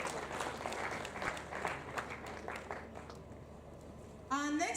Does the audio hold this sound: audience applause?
yes